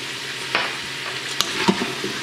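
Stew meat seasoned with salt and pepper being stirred in a pot, a continuous sizzle with a few soft spoon scrapes and taps, close and steady with no speech.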